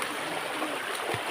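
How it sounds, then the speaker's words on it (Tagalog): A strongly flowing river gives a steady, broad rush of water with a faint gurgle, close and continuous with no voices. "Suba na grabe kagana ang tubig"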